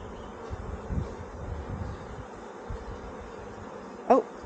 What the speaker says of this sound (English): on the inside there are so many bees